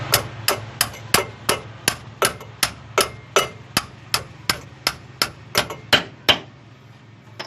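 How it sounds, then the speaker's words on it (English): Rear shackle bolt of a 1955 Cadillac Coupe Deville bottoming out against the car frame, a series of sharp metallic knocks repeating at an even pace about twice a second, close and fairly loud. "you can hear the shackle bolt bottom out when it hits the frame"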